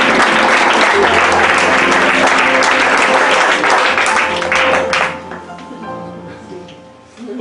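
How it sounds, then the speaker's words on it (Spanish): A church congregation breaks into loud, dense applause that holds steady for about five seconds, then drops off quickly to a few remaining claps and a low room hum. "Un aplauso al Señor."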